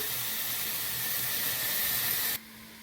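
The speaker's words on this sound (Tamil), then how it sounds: "இப்போ நம்ம இஞ்சி பூண்டு பேஸ்ட் போட்டு அது நல்லா நம்ம வந்து வதக்கி விட்டுடலாம்" Ginger garlic paste sizzles in a pan after the onions have softened, a steady loud hiss that cuts off abruptly near the end, leaving a faint hum.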